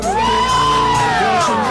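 A crowd cheers and whoops loudly, with a high rising-and-falling shout riding over a dense roar of many voices close by.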